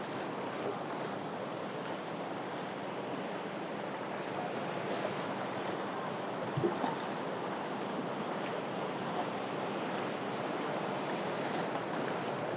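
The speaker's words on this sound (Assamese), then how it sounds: "এনেকৈ ঢৌ আহি থাকে, এই ঢৌ আহিলে মোৰ ভয় লাগে" Steady broadband wash of Arabian Sea surf breaking on a shore in Karnataka, continuous and fairly loud with a brief thump near the middle, no voices.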